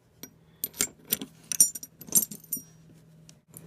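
Small metal Hiatt keys for handcuffs and leg irons jangle and clink together in a handful of quick, bright, close bursts, with no one talking.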